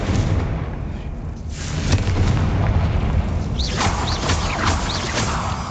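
Confringo fire spells in the Hogwarts Legacy video game burst in repeated loud booming blasts with crackling debris and swooshing tails, several impacts following one another close up.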